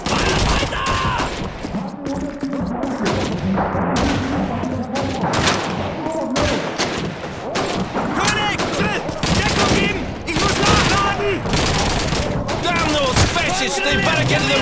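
Rapid gunfire from Call of Duty 2 rattles in dense, overlapping bursts for the whole stretch, loud and close, with shouted voices mixed in between the shots.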